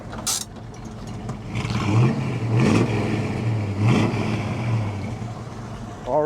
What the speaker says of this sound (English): Can you rev the engine for me